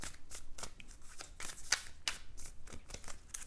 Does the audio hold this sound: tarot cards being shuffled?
yes